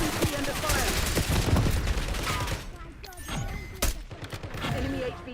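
Dense, sustained gunfire in an online shooter video game, heavy fusillades of rapid shots with scattered single cracks, while voices talk over the shooting.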